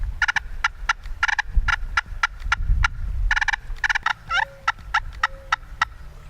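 Turkey calls sounded by hand to mimic wild turkey clucks and purrs: sharp, evenly spaced cluck strokes repeating throughout, mixed with drawn-out rolling purrs, close and fairly loud, with no talking.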